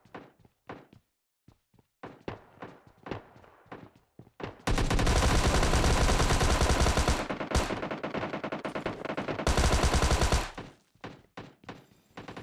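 Thompson submachine gun fire in PUBG Mobile Lite: scattered single shots and short bursts, then two long, loud sustained volleys of rapid automatic fire, with no talk.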